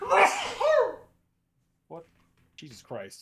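A single sharp sneeze bursts out near the start, followed by a pause and then someone speaking briefly.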